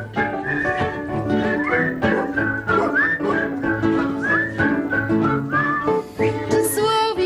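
A live audience whistles along in a lively, warbling chorus of many melodic whistles with sliding pitches, loud and close, running steadily throughout with brief dips.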